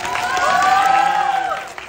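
Cinema audience clapping and cheering loudly after a live song performance in the theater, a dense swell of applause with a sustained vocal tone riding over it, fading near the end.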